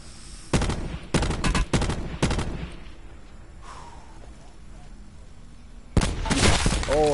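Gunfire in a competitive first-person shooter video game: a burst of loud, sharp shots in the first two seconds, then a quieter stretch with a faint voice, then another loud volley near the end.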